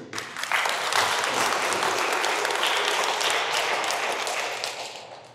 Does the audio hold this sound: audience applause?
yes